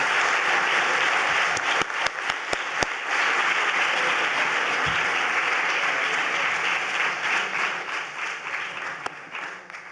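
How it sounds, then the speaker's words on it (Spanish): Sustained audience applause fills a film press conference for the Donostia award honoree at the San Sebastián festival, steady and dense throughout with a few sharper individual claps near the start, fading slightly toward the end. "les pido, eso sí, un aplauso para nuestro premio Donostia"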